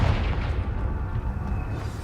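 A deep rumbling blast from the Confringo blasting spell in the video game Hogwarts Legacy, heavy low-frequency booming sustained at a fairly loud, even level for about two seconds.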